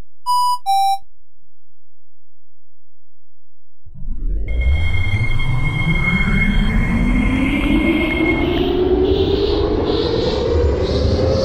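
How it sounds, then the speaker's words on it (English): A Delta Line airport train pulls away from the station: a two-tone chime, then a rising electric motor whine and rolling rumble that builds steadily and stays loud, with brief high tonal squeals near the start of the run. "The train is about to depart."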